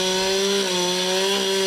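A chainsaw cuts through fallen trees after a destructive storm in the mountains, a loud, steady high-pitched engine whine held without pause, close and alone.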